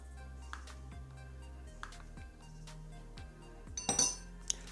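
An espresso martini coffee mixture being stirred, heard as faint repeated clinks of a utensil against a container, ending in a brief louder clatter, close by over a low hum, with no talking.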